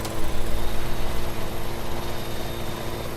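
A helicopter in Farming Simulator 17 throbs loud and close, its rotor chop pulsing rapidly over a continuous engine roar with no voices.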